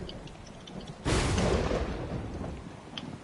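Thunder from lightning in the God of War video game: a sudden loud broadband rumbling crack that rolls on for about two seconds, then fades into a quieter background.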